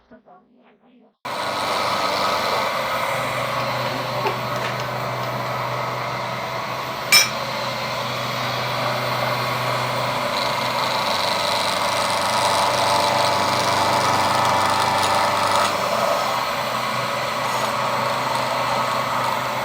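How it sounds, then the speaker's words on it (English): A milling machine squares up the edges of a metal part, giving a steady close-up whirring drone with cutting noise throughout and a single sharp metallic clink partway through. "I'm just going to use the milling machine to square these edges up"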